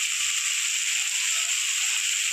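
Bori lentil dumplings sizzle in hot oil in a pan of spiced greens, a steady, bright, hissing fry that holds evenly throughout without talk.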